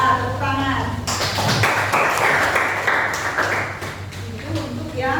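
A class of students clapping hands during an economics lesson, a burst of group clapping that swells after a spoken voice and fades as talk resumes, with a humming tone underneath.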